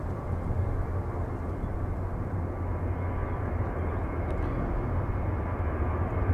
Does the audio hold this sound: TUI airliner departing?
yes